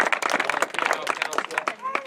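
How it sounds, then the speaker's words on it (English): A group at an awards ceremony for a youth running camp claps for an athlete, giving brief, crisp, uneven clapping mixed with nearby voices. "And again, clap up for Annika."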